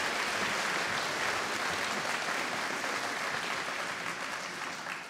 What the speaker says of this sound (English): Huge round of applause for Will, please.